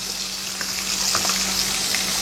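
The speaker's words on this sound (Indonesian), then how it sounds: "Nah, digoreng gitu aja enak ya." Pangasius fish fries in plenty of hot oil with a dense, continuous sizzle and a few faint pops and stirring sounds.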